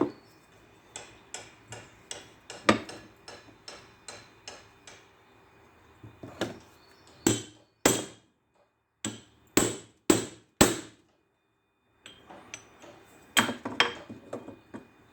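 A hammer strikes a chisel cutting into lead-sheathed copper electrical cable, sharp metallic knocks coming in steady runs and irregular clusters with short pauses, close and fairly loud.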